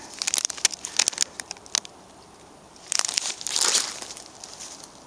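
Crinkling of a plastic seasoning packet, a run of sharp rustles and crackles, a brief pause, then a longer burst of crumpling, close by with no talking.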